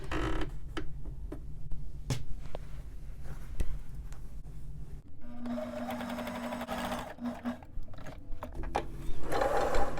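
A sewing machine runs a long straight basting stitch on a man's button-up shirt. It gives a steady mechanical chatter with fast ticking clicks, close and continuous, and briefly whirs at a higher pitch partway through.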